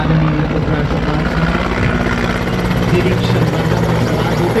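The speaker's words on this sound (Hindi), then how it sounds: "और ऊपर से गुजरता हेलीकॉप्टर" A helicopter passing overhead at a flag-hoisting ceremony in a stadium in Jammu, a loud continuous rotor thrum with a steady chopping pulse that fills the whole stretch, with faint voices mixed in.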